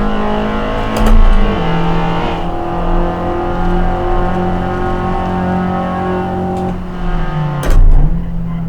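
Spec Miata race car engine in a VR racing game at Harris Hill, droning steadily at mid revs with shifting pitch, brief rises and dips and a couple of sharper bursts as it works through corners, loud and close.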